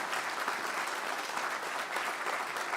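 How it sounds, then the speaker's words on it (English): An audience at a live candidates' debate in Cape Breton–Canso–Antigonish claps in steady applause, a dense, moderately distant patter with no voices over it. "a round of applause for our candidates for being available to us"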